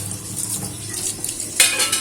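Two pieces of eggplant fry in a pan with a steady hiss, and a sharp utensil clatter cuts in near the end.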